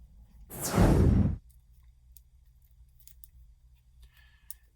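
A new deck of playing cards is opened, giving one loud, close tearing rip of about a second, followed by quiet handling with faint small clicks and rustles.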